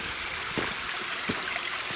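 A mountain stream in the Gorce range of southern Poland rushes and splashes steadily up close, a continuous broadband wash with a couple of brief louder splashes.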